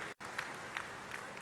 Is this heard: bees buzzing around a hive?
no